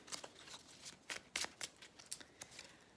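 Oracle cards shuffled and drawn during a daily astrology reading for the Aries sign: a close, quiet run of crisp papery riffles and flicks, about a dozen irregular bursts with no voices.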